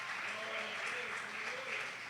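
A church congregation applauding the Lord's presence during a worship service, a short, steady burst of clapping under a faint voice.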